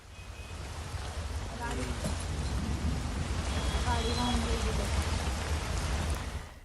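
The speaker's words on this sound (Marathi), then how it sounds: "अवकाळी पावसाने जोरदार हजेरी लावत संपूर्ण पुणे शहराला झोडपून काढलं" Heavy unseasonal rain pours down over Pune in a dense, steady roar that swells slightly, with muffled voices faintly audible beneath it.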